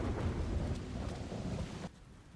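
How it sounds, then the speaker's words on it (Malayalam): Thunder in a storm in the video game Uncharted 4 rolls as a low, sustained rumble with rain hiss, then cuts off abruptly near the end. "നല്ല ഇടിമിന്നലും കാര്യങ്ങളും ഉണ്ട്."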